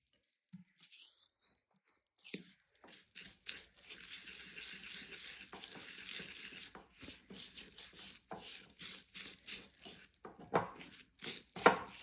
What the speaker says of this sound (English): And just mix that into the white and pink sugar